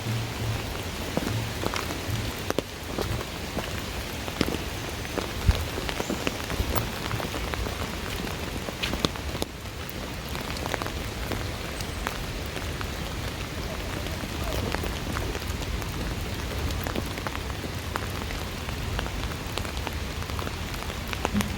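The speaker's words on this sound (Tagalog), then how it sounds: "Kasi umuulan today." Steady rain pours down on a waterfall hiking trail, a dense, even hiss of drops on leaves and ground lasting throughout, close and unbroken, with a few faint louder spatters.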